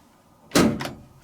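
Door of a 1979 Bosch VT595 condenser washer dryer opening, a single close, fairly loud latch-and-swing sound with a brief second knock just after, then quiet.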